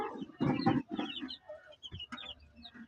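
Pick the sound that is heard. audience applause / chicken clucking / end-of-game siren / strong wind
chicken clucking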